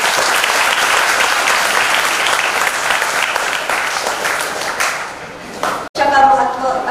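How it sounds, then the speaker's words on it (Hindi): Audience clapping again at a Raksha Bandhan school event, a steady, full round of applause that fades and cuts off, followed by a voice speaking. "सब दोबारा ताली बजाएं"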